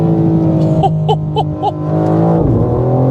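A 2025 BMW M4 Competition engine revs hard on the Autobahn and climbs in pitch, with crackling pops, then drops sharply as it shifts gear and pulls again.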